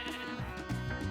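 A Minecraft sheep bleats, a short wavering baa heard close and clear against a quiet background.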